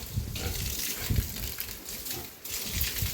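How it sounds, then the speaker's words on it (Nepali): Hot water gushes and splashes over pigs being washed in summer, a steady close pour with uneven bursts as the stream shifts, and faint pig sounds mixed in. "कति साह्रो तातो पानी आएको"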